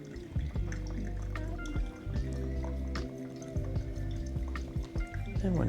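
Freshly brewed pour-over coffee trickles through the filter into a cup, close-up liquid dribbling with scattered drips and a resonant gurgle, quiet and without speech.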